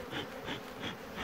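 Honeybees swarm around a hive on Kestane Dağı, their close buzzing swelling and fading in quick, regular pulses over a brief moment.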